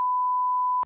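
A phone app gives a single steady error beep, near and clear, held for almost a second after a wrong password is entered while a GVM PRO-SD200B light is being set up.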